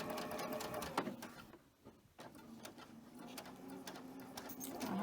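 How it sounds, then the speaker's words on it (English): A sewing machine chain-stitches 2.5-inch fabric strips with pink thread, a steady close whir running nearly the whole time with a short dip in the middle and faint mechanical ticks on top. "I'm just going to go ahead and chain stitch all of these"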